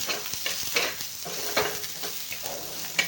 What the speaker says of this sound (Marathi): कांदा आपण चांगला लाल भाजून घेऊया